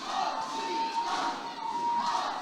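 Wrestling crowd at an Ohio Championship Wrestling event shouting together against Nick Hahn, a sustained roar of massed voices with a rising and falling chant-like swell, loud and alone.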